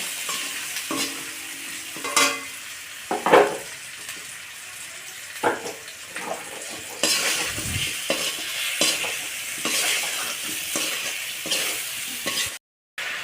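Fish or okra frying in a pan with salt, stirred steadily, with scraping strokes and sizzling bursts over a continuous hiss; no one speaks.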